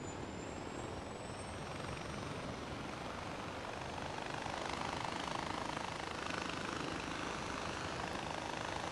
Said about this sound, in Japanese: やっぱヘリはいいですね、早いし。